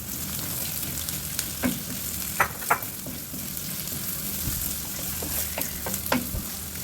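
Garlic and onion sizzle in a hot pan while being stirred, a quiet steady frying hiss broken by a few sharp pops and scraping stirs, close by with no talking.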